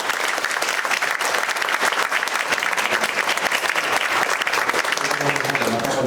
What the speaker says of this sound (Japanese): もう一度拍手を